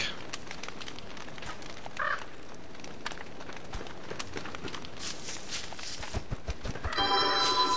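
A caged bird in the game Don't Starve chirps in short, bright calls over a background of soft footstep-like ticks and game ambience, with a denser flurry of chirps near the end.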